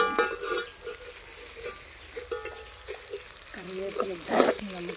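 Onions and curry leaves with salt being sautéed in a pan for a chicken roast with kanthari chillies, a low steady sizzle with occasional scraping stirs and a metallic clink near the end, fairly faint and close.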